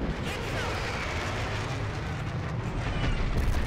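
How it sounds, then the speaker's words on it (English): Explosions from an airstrike in the online shooter Dirty Bomb, a dense continuous rumble of booms and blasts holding steady and swelling slightly toward the end, loud and close. "Ready, and airstrike out."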